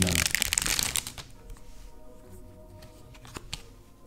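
Unpacking a package of Paragon Star card dividers for the Arkham Horror card game, loud close crinkling and rustling of packaging at first, then quieter handling with occasional clicks and taps.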